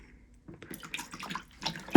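Antifreeze poured into an RV sink, a short burst of liquid splashing and trickling after a near-silent start, fairly faint and close, ending in a louder splash.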